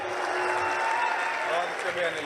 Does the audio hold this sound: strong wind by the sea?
no